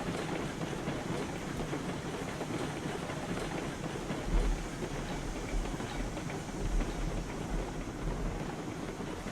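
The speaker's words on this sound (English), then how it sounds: "we will have to stop the train" A locomotive hauling a cordwood train in RailRoads Online, giving a steady low rumble with faint rhythmic clatter of wheels on rail and a few heavier thumps, continuous and moderately distant.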